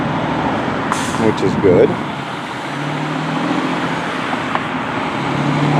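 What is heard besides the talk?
truck traffic at the Port of Wilmington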